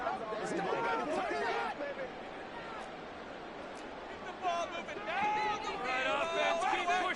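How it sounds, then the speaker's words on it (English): Home-stadium crowd at a football game roars and chatters steadily throughout, with a commentator talking over the noise and louder swells near the end. "Crowd involved early."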